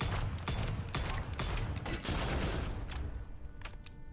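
Rapid bursts of gunfire from a weapon in the first-person shooter Witchfire, heavy and punchy shots repeating in a dense fusillade that thins slightly toward the end, with no talking.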